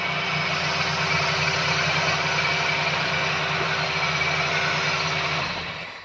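An engine fitted with a dash pot idles with a steady, close rumble and fine rhythmic pulsing for about five seconds, then is switched off and quickly dies away.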